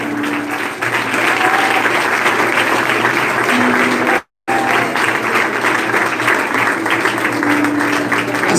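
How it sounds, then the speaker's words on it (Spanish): A church congregation claps at a lively evangelical service, with sustained loud, dense applause filling the room and a brief gap partway through. "Dale aplauso al Rey de Reyes."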